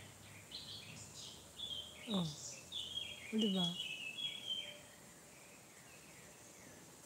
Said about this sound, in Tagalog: Mga ibon lang, nandiyan.